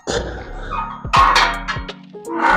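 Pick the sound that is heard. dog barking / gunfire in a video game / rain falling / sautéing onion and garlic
dog barking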